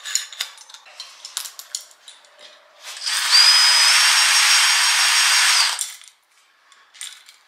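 A power drill spinning a chain flail whirs steadily for about three seconds with a rattling metallic buzz, preceded and followed by scattered clinks and knocks of tools.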